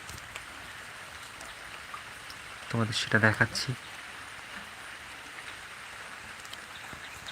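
Rain falls on a village pond as a steady, soft hiss throughout, with a brief spoken remark near the middle.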